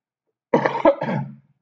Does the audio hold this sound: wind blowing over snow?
no